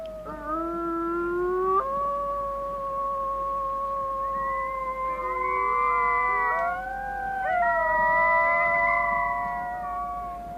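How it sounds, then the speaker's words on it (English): An Arctic wolf mother and her pups howl together in long, sliding, overlapping tones, with several voices rising and falling for about ten seconds, clear and fairly close with no talk. "Mom began to howl, and the pups joined in."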